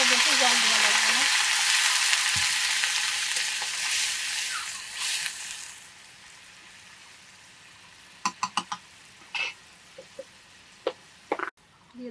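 Young jackfruit frying in a pan gives a steady broad sizzle for several seconds, which dies down to a quieter simmer, followed by scattered knocks and sharp clinks of a utensil against the pan.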